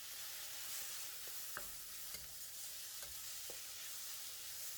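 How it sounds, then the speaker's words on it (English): Minced beef fries in a wok, giving a faint, steady sizzle broken by a few soft scraping stirs, with no voices. "Add 320 grams of minced beef. Stir and spread the beef around the wok."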